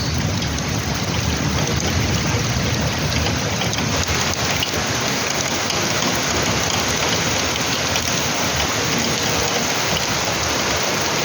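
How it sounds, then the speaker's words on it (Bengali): Heavy monsoon downpour in Belgharia, a dense, steady roar of rain pounding surfaces, loud and unbroken throughout. "ভালো বৃষ্টি হচ্ছে বেশ।"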